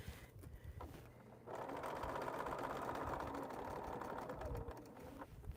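Sewing machine stitching a quilt, starting with a few slow stitches then settling into a steady, fast mechanical hum and clatter, fairly quiet and close, with no talk.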